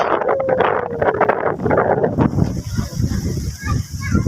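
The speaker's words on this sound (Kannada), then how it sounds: "ನೋಡ್ರಿ ಗಾಳಿ ಗಾಳಿ ಗಾಳಿ" Strong wind buffets the microphone in loud, roaring gusts, with a voice briefly heard beneath the rush at the start.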